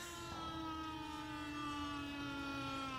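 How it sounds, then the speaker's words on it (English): An ambulance siren from a 1984 film scene with a van holds a steady wailing tone with stacked harmonics, loud and continuous for three seconds with no voices. "The van and the ambulance."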